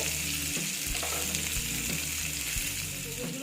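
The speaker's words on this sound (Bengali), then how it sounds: "একটু লাল করে ভাজতে হবে" Ingredients for a pabda fish curry with mustard and poppy seed fry in hot oil, giving a continuous dense sizzle and crackle close up, with music in the background.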